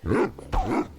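A pet dog in a video game gives a short pair of barks, loud and close, with a brief gap between the two yaps and no talk over them.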